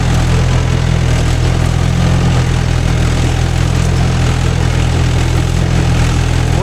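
A Mahindra 575 DI tractor engine idles close by, a loud, steady low diesel rumble with constant vibration throughout and no other sounds on top.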